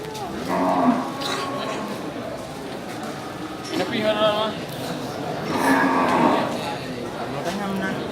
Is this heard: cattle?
yes